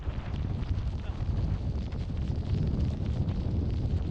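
Strong wind on a Scottish mountain blasts across the microphone as a continuous, loud, rumbling roar with gusty surges throughout.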